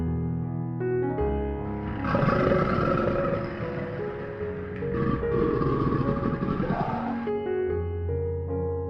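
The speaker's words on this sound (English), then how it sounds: "Alligator." An alligator roars in two long, rough, rumbling bursts separated by a brief break, loud and close, with soft music playing before and after.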